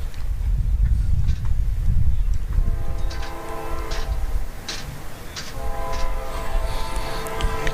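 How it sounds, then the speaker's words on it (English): A train speeds down a rail line beside an outdoor sports ground, a steady rumbling roar with a sustained horn blowing through the second half, loud and continuous. "the noise from one of those trains that is speeding down the line"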